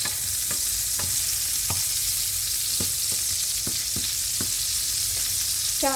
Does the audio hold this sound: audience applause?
no